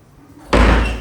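A door slams shut with a sudden loud bang after a quiet moment, its heavy thud and rattle lingering and slowly fading in a family kitchen setting.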